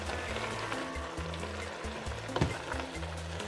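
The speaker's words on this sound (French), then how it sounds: "Je suis en train de sauter le tout." Pork and vegetables with fresh green pepper sauté in a pan with no water added, a steady close sizzle under low-pitched tonal background music, with one sharper clatter of stirring midway.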